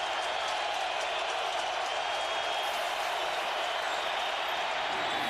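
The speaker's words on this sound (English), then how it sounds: "Crowd trying to warm it up for the Spartans." A college football stadium crowd at Michigan versus Michigan State roars for the Spartans, a dense, continuous wash of distant cheering and clapping that holds steady throughout.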